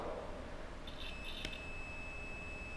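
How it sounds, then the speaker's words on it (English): A buzzer on a continuity tester beeps briefly as it checks normally closed contacts on a relay for an AC motor circuit, a thin high tone over steady background hiss. "That's why if we test it by buzzer, the buzzer will sound."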